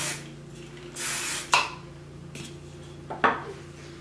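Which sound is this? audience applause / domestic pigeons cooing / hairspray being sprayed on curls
hairspray being sprayed on curls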